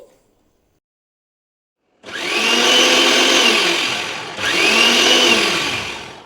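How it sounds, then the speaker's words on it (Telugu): A kitchen mixer grinder blends chutney. After two seconds of silence it starts with a loud, steady, close whir, dips for a moment, then runs on at full strength. "చట్నీ అయితే మిక్సీ పట్టేసుకుంటున్నానండి"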